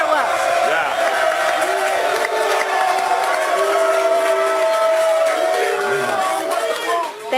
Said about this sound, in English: You think this crowd's excited or what?